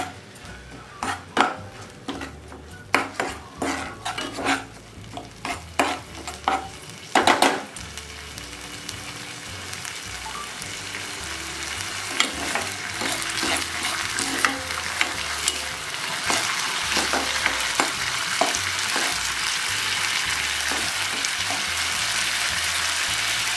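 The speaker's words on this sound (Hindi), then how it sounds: "आधा चम्मच घी ले लिया, उसमें ऐड करूंगी जो पहले से ही भिगो के रखा था राइस को, और अच्छी तरह से राइस को फ्राई कर लूंगी।" Soaked rice frying in half a spoon of ghee in a pan, stirred with a utensil: sharp scraping knocks at first, then a steady close sizzle that grows louder, no talk.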